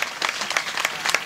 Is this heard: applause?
yes